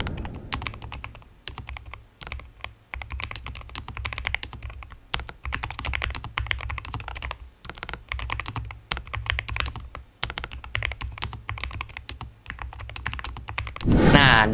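Steady, soft typing on a NuPhy Kick75 keyboard with low-profile brown switches, rapid muted clicks throughout, close up, no voices, ending with a brief louder rustle.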